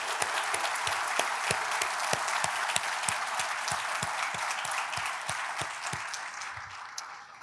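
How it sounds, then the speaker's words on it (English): Audience applause at a keynote conference, a steady wash of clapping from a large crowd with sharp individual claps standing out near the front, holding throughout and easing slightly at the end. "Give them a quick round of applause."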